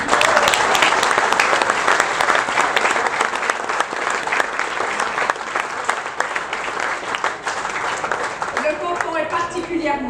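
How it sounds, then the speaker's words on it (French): A crowd gives sustained, loud applause for the workers who built a tunnel. The clapping is steady and dense, with a voice rising over it toward the end. "Elles méritent et ils méritent tous nos applaudissements."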